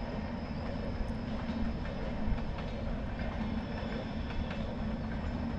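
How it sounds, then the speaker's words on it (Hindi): A train running on the railway track near Araku in the valley, a continuous loud rumble and rattle of wheels and carriages with faint rhythmic clacks, steady throughout with no talk. "आपको दिखता है ना आगे ट्रेन।"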